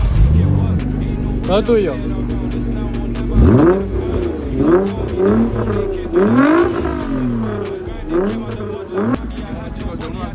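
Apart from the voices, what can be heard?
Nissan GT-R R35 sports car engine starting and idling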